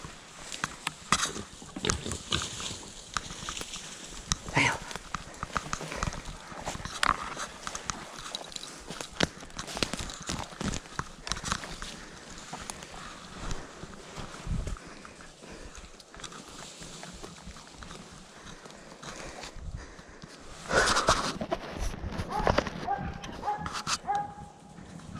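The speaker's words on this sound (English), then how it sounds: "Sounds like a bigger pig." Hunting dogs bay at a herd of hogs outdoors, with scattered barks, yelps and grunting squeals at varying distances amid rustling movement, fairly quiet overall with a louder burst near the end.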